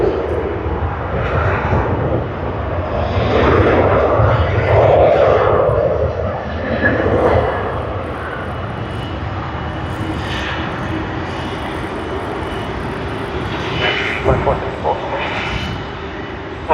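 Aircraft VH-VZU, built in October 2011, comes in on final approach at Sydney Airport in the evening. A steady loud jet engine roar swells and fades, with a voice talking over it.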